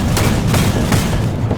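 German 37 mm anti-aircraft gun on an Sd Kfz 6/2 halftrack in War Thunder, firing a steady run of heavy, booming rounds close by, the shots blurring together into a continuous thudding barrage with no talk.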